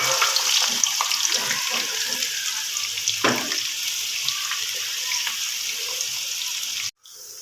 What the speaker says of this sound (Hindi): घी हमारा गर्म हो चुका है। ये प्याज हमने इसमें डाल दिया।